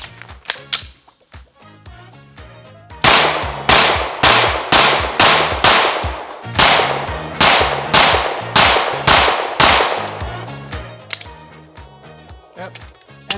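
Tisas PX-9 Duty Comp 9mm pistol fires at an outdoor shooting range: sharp, loud, close cracks, a few spaced shots followed by a rapid, steady string of about a dozen evenly timed rounds that trails off.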